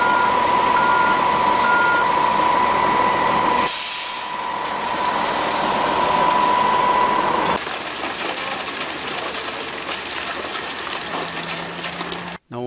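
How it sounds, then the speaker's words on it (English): Concrete trucks arriving at a home build site with insulated concrete forms: a loud, steady reversing beep repeats for several seconds over a heavy diesel rumble, then gives way to a rough engine and machinery roar. "Here we're building up the first floor, and the concrete trucks are showing up."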